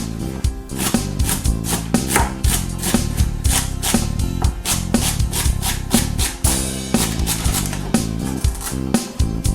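A knife chops celery on a cutting board in a long, rapid run of loud, close thuds and scrapes that keeps up a steady, slightly uneven rhythm throughout.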